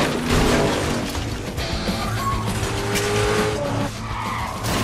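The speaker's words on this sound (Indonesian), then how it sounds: "Dengan cepat Chelios segera kabur dengan menggunakan mobil curian dan terjadilah aksi kejar-kejaran." A stolen car in a movie chase skids with loud, sustained tire squeal over a roaring engine, and dense, noisy action sound fills the whole stretch.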